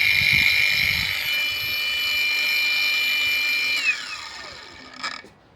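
A Dnipro-M DGA-201BC cordless angle grinder spins freely with no cut, giving a steady high whine that drops in pitch as the speed is lowered, then fades as the motor winds down near the end.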